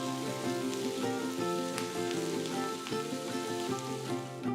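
Mustard seeds, green chilli, ginger and curry leaves crackling and sizzling in hot oil in a home kitchen, a steady dense fizz with small pops throughout, close and fairly loud, alone without talk.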